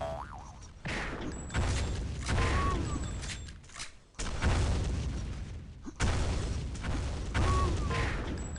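Rifle fire in the video game Sauerbraten during a one-on-one duel, a few heavy, sharp reports separated by stretches of dense, continuous game noise, loud and close with no talking.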